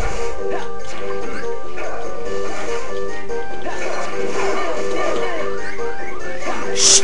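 Game dog from Kingdom Hearts 358/2 Days barking and yipping amid busy battle effects and crashing hits, with music running underneath throughout.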